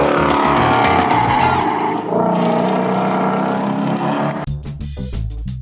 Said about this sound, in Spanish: el coche puede derrapar.